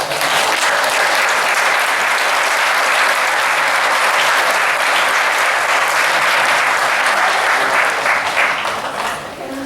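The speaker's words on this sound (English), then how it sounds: "give yourself a round of applause" Loud, dense applause fills the room at an annual amateur art exhibition awards event, a continuous roar of many clapping hands holding steady for nearly ten seconds before easing slightly at the end.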